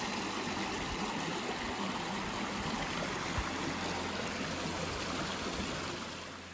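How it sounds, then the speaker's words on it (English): Outdoor waterfall heard as a continuous, full rushing roar of falling water, loud and steady, tapering slightly at the very end. "We found a waterfall."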